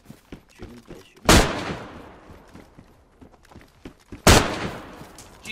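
Two loud, close gunshots ring out in DayZ about three seconds apart, each a sharp broadband crack with a long decaying tail, over quieter footsteps and faint movement in between.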